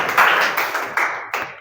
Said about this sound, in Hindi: आप लोग ताली बजाएं आरुषि के लिए।